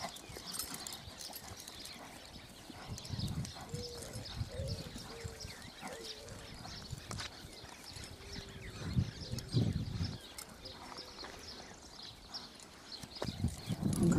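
Chestnut working horse, 1.47 m tall, walking with soft irregular hoof clip-clops on the ground, fairly faint over light outdoor ambience with scattered birds.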